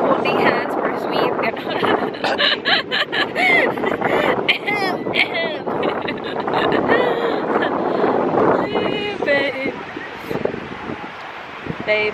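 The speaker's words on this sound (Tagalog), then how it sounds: "I think it's gonna be really windy." Strong wind at a beach buffets the microphone with a loud, continuous roar and gusty rumble while people talk through the noise.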